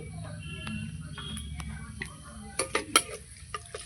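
A bay leaf and whole garam masala go into hot oil in a pan for a bhetki fish-head chorchori, with a low background sizzle and a few sharp clinks of a utensil against the pan near the end.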